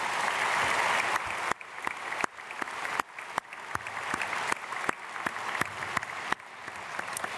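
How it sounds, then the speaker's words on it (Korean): A church congregation at a Sunday service claps to welcome new members, a sustained, dense wash of applause from a large indoor crowd that stays steady throughout. "우리 크게 박수로 환영하겠습니다."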